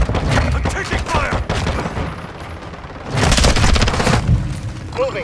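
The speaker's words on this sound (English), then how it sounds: "I'm taking fire!" Gunfire and explosions from the video game Modern Warfare 2 make dense rattling bursts and heavy booms, growing loud and thick in a long barrage midway through.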